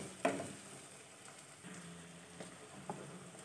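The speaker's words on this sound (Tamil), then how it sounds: "இந்த தக்காளி, ஆனியன், இந்த கொடமிளகா மூணும் வந்து நல்லா வந்து வதங்கணும்." Tomato, onion and capsicum sauté for kadai chicken, a faint steady sizzle in the pan with a few soft clinks of stirring.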